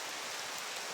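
Heavy rain falling outdoors in the open, a dense steady hiss of drops with no voices, heard for about a second.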